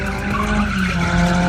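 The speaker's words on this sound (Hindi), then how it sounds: "आज प्रतीक भैया वाली गाड़ी में भी ड्रिफ्ट करेंगे" A car engine roars while tires squeal continuously in a drift on a drift pad, loud and close with a sustained screeching tone.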